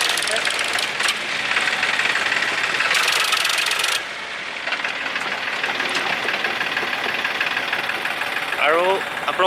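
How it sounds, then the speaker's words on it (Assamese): Tractor engine idling and knocking while hauling soil for road construction near a bridge between Majuli and Lakhimpur, a loud steady rumble with bursts of clatter and a brief squeal near the end. "এনেকৈ ট্ৰেক্টৰে মাটিবোৰ আনি ৰাস্তাৰ কাৰণে মাটি পেলাই থকা হৈছে"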